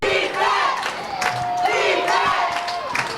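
A high school varsity football crowd roars and chants in rising, surging waves, loud and sustained, with players firing up the stands and shouted voices blending into the roar.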